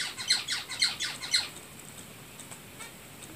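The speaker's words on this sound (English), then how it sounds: "some lovely background music of the birds" Birds squawk in the background, a run of sharp harsh calls repeating in a quick rhythm at first, then thinning to fainter scattered calls, moderately distant with no talk over them.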